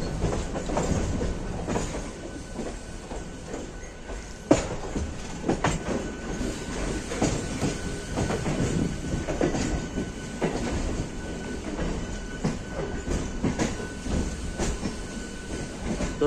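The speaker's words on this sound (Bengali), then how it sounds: "আমাদের ট্রেন যাচ্ছে ডান দিকে" A Howrah–Belurmath slow local train runs steadily, wheels rumbling and clicking over rail joints with occasional sharp knocks, continuous and close from inside the carriage.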